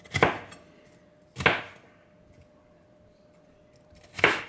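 Three sharp knife chops on a cutting board, spaced well apart, as paprika is sliced; each stroke lands crisply with quiet room tone between them.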